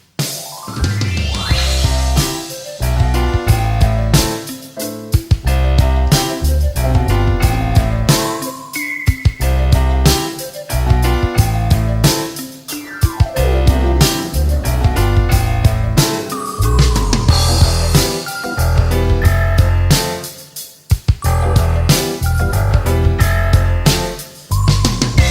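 A song plays loud and steady, a full band with bright, tinkling keyboard lines over a bouncing bass and drums, running without a break and dipping only briefly near the end.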